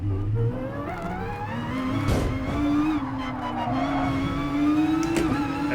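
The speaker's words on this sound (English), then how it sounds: "So I think it's a good moment to hit the brakes over here." A race car in Gran Turismo Sport braking hard from high speed, with a steady engine whine shifting pitch and tires squealing in a sustained screech. Brief scuffs cut through near the middle and end.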